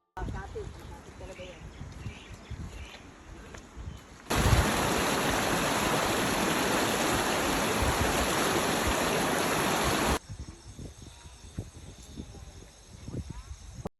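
Flowing mountain stream water rushes loudly in the middle section, framed by quieter outdoor ambience with scattered footsteps and rustling before and after, on a hiking trail at Mt. Pinatubo.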